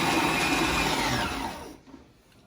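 A kitchen mixer churns flour and butter for a lemon meringue tart base, a loud, close whirring that runs briefly and then cuts off, leaving quiet.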